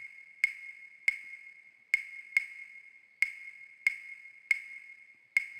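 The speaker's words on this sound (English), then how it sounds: "son clave is one of the most common types of clave, and it sounds like this." Crisp wooden clave clicks tap out a syncopated son clave pattern, eight bright strikes played alone.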